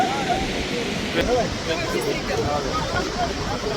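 Niagara Falls thunders in a steady, dense, close roar of falling water that never lets up, with voices faintly audible beneath the rush.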